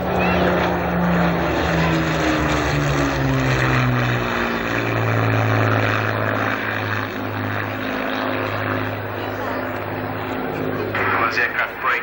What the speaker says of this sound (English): as the aircraft brake left and right. Classic Spitfire wing there